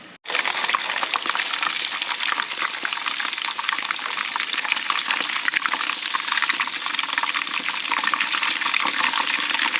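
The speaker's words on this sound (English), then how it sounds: "When I've chucked the chicken in there, it's almost deep frying anyway." Hot oil crackles and sizzles steadily as chicken deep fries for burgers, a dense, continuous bubbling hiss starting abruptly and staying loud throughout.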